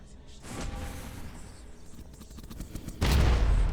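A grenade goes off in the shooter Blood for the Old Gods, a heavy close blast near the end, after a stretch of busy gunfire-like game noise.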